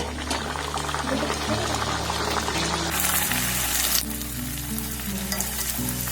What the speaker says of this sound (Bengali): একটা করে পুরীর মধ্যে দেবো আর খুব ভালোভাবে ভেজে নেব